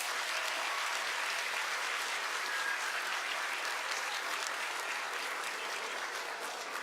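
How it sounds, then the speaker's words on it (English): Steady, continuous applause from a crowd at a kindergarten evening event, loud and sustained throughout with no pauses. "Let's give them another round of applause."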